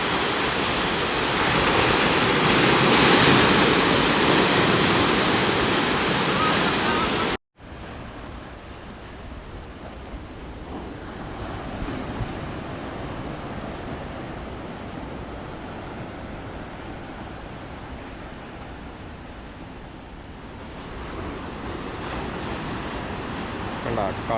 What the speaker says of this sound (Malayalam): ഈ ഇത്രയും വലിയ തിരമാലയിൽ നിന്നിട്ടാണ് ഇവർ വല വീശിക്കൊണ്ടിരിക്കുന്നത് കേട്ടോ